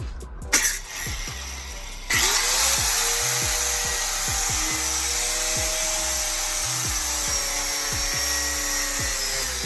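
A power tool cutting a hole in the floor of a C10 pickup truck for the shifter runs as a loud, continuous high whine close by after a brief start-up, its pitch wavering as it bites into the metal.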